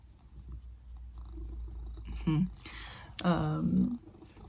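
A low, steady cat purr rumbles close by, joined by two short, louder vocal bursts near the end.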